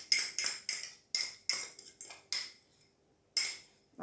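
A spoon scraping and clinking against a bowl while tomato puree is added to mature cheddar, a quick series of about a dozen sharp metallic taps in an uneven rhythm, close and clear, with a short pause before the last strikes.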